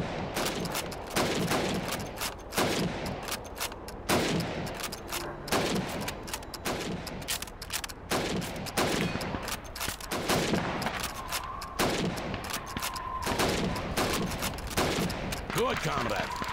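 Rapid rifle shots crack out again and again across a timed helmet-shooting drill in the Call of Duty 2 Russian campaign's Winter War, with sharp repeated reports close up over a busy game soundscape and occasional voices.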